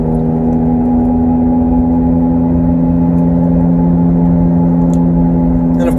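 A failing wheel bearing on a moving car gives off a loud, steady droning hum that holds an even pitch under the road and engine noise, with no one talking.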